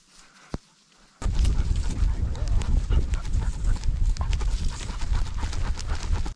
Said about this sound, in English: I think the dog's a little warmed up and ready to go.